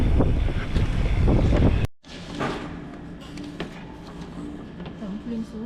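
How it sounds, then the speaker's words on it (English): Strong headwind buffets the microphone during a cycle tour in Korea, a loud roaring rumble for about two seconds that cuts out abruptly, then lighter gusty wind noise continues with faint background sounds. "So we just got a strong headwind."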